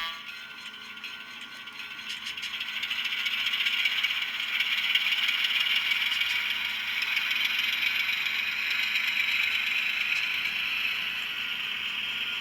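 Early diesel locomotive engine sound from a SoundTraxx Tsunami2 sound decoder, a steady rattling mechanical hum that swells after the first few seconds and then holds at a fairly even level, with no voices.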